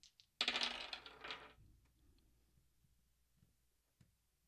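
Astrology dice tossed onto a hard surface give a quick, bright burst of clattering rattles that settles into a faint tumbling. One soft tap follows later, and no one talks.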